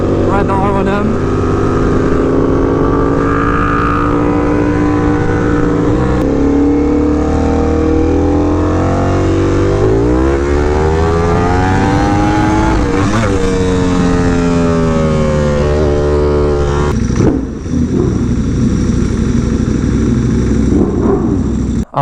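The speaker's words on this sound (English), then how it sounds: "Had my friend ride the R1M." Yamaha R1M sport motorcycle ridden past at a bike meet, its engine revving loudly with rising and falling pitch sweeps, holding strong and close for the full stretch before dropping back near the end.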